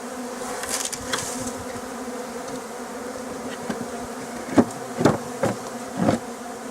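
Steady buzzing of many honey bees swarming close by around a Flow Hive with American foulbrood disease, with a few louder individual bees droning past near the end.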